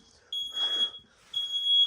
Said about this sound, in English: Oh no, smoke alarm. There's a smoke alarm here.